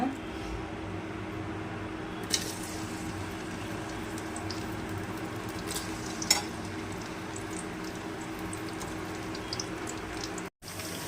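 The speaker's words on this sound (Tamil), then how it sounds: "இப்போ வெங்காயம் வந்து நல்லா வதங்கி வந்துருச்சு" Onion sautéed with cloves, cinnamon and bay leaf gives a soft, steady sizzle close by, with a few light stirring scrapes and a brief cut near the end, no talking.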